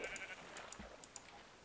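A baby sheep bleats a few times in Minecraft Beta 1.9, short high calls with soft clicks and game noises around them, fairly faint.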